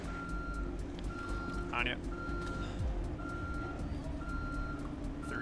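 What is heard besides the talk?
truck reversing beeps in the video game Ghost Recon Future Soldier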